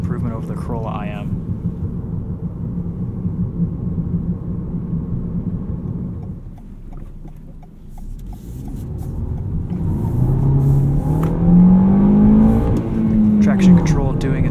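A 2019 Toyota Corolla XSE Hatchback with a 6-speed manual accelerates uphill, its engine note droning steadily from inside the cabin and rising in pitch toward the end, while someone talks over it.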